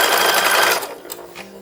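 A sewing machine stitches a tiny lace seam on a 1910s-1920s style infant dress, a brief steady whir that runs loudly for under a second and then drops away into quieter rattling.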